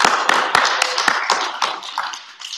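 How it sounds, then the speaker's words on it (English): Students clap together at a school assembly in a multi-purpose room, a dense burst of many hands close by that holds steady and then thins toward the end. "Give me a round of applause, guys"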